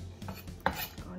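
Garlic cloves are struck on a kitchen board to loosen their skins, giving a few short dull knocks with one sharper thump near the middle.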